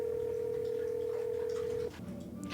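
Phone call ringing in the video game Scarlet Hollow, a steady electronic tone held for nearly two seconds before cutting off, followed by quieter background sound.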